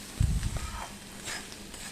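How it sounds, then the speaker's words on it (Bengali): Chopped onion and potatoes fry in a pan with a quiet, low sizzle, opening with a couple of close bumps of stirring. "ভালো করে পেঁয়াজটাকে আলুর সঙ্গে একদম ভাজা ভাজা করে নিতে হবে"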